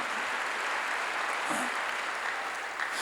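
Korean church congregation claps during a sermon, a continuous, fairly even wash of many hands at moderate level throughout, with no clear speech on top.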